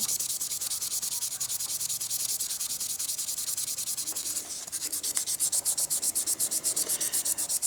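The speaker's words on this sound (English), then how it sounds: "Do my cross sanding one more time." Steady, rhythmic rasping of sandpaper rubbed back and forth across a CA finish in cross sanding, close and continuous with a brief pause midway.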